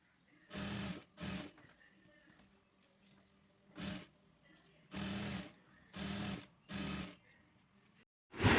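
A sewing machine stitches a sleeve on a modest-wear garment in several short, close bursts of running, separated by brief pauses and a low background hiss, with no voices.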